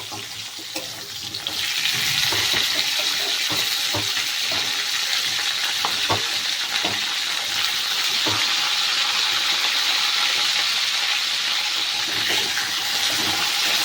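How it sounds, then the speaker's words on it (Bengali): Potato and carrot pieces fry in an oil-filled pan, giving a loud, steady sizzle that swells after a quieter start and hisses continuously with occasional stirring clicks. "আলু আর গাজরটাকে একটু হালকা করে ভেজে নেব"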